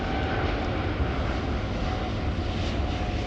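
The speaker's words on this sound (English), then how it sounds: "Yep, it's a Boeing 777." A Boeing 777 roars during its takeoff run at Heathrow Airport, a steady, powerful jet-engine rumble and whine filling the whole short stretch at a constant level, heard from fairly close.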